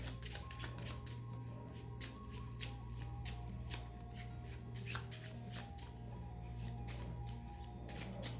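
A deck of cards, a black tarot-style deck, is shuffled repeatedly at close range, a steady run of crisp riffling snaps and flicks over a low background hum.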